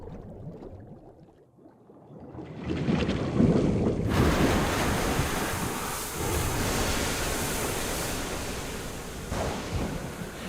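Ocean waves of the Wind Waker sea from Zelda surge in after a quiet, sparse opening, then roll on as a loud continuous wash of surf mixed with gusting wind.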